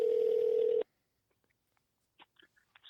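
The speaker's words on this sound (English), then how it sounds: "Let's get Michael Beck on the phone." A telephone keypad tone sounds loudly for under a second, followed by near silence and then a few faint, brief clicks and blips as a call is placed.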